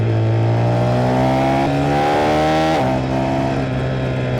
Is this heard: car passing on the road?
yes